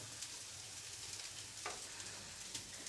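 Schezwan fried rice with vegetables being stirred in a hot pan, a steady close sizzle with a brief scrape of the spatula partway through, no voices.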